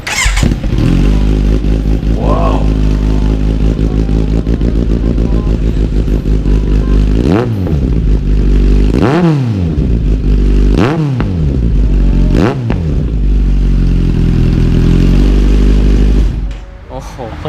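A Kawasaki Z900SP motorcycle fitted with a loud SC aftermarket exhaust fires up and idles with a deep, steady throb, then blips its throttle in several sharp revs before settling and cutting off near the end.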